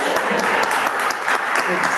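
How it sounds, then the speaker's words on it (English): A small audience at a government information conference session gives steady, moderately loud applause that holds evenly throughout, with a few voices mixed in. "Go ahead and clap."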